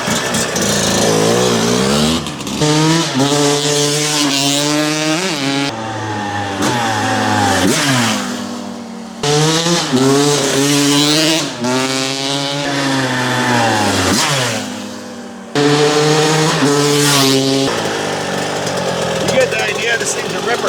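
A 1983 Yamaha YZ125 two-stroke motorcycle engine revs loudly and close by in repeated rising and falling runs, with a sharp buzzing wail that climbs through each pull, separated by brief drops to idle.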